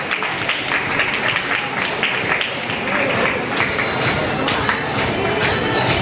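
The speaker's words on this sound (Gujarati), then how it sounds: "આપણે તાળીઓની વાલીઓને ખાસ તાળીઓ પાડવા માટે નમ્ર વિનંતી" Rapid, steady applause from parents at a student award ceremony in Bhavnagar, continuous clapping that holds at an even level throughout.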